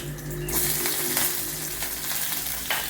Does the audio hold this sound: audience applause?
no